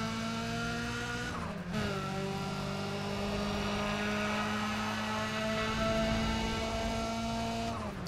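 A race car engine in Need for Speed: ProStreet drones loud and steady at high revs, with a sharp gear shift and drop in pitch early on and another near the end, with no talk over it.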